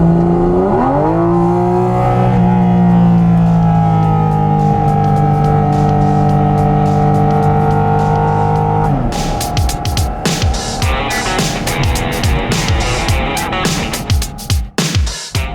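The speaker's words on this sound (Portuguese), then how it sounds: "Olha só o ronco do motor." Porsche 718 GT4 with a 4.0 six-cylinder engine roars loud and close, first a sustained rising rev, then rapid blips and sharp throttle bursts with crackling pops toward the end.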